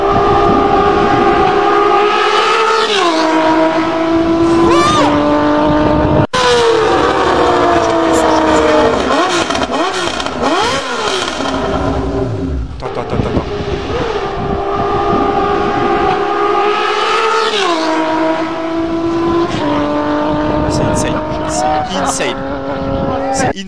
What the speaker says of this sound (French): d'où Honda fait un bruit comme ça, gros? 6 cylindres!